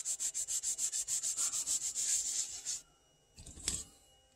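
Rhythmic rubbing strokes as oil is worked into the dry rosewood-style fretboard of a Gibson Maestro Les Paul Junior guitar, a steady run of close, even swipes that stops, followed by a brief scuff and tap.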